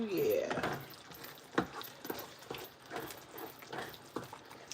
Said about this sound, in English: Nice little stir up in there.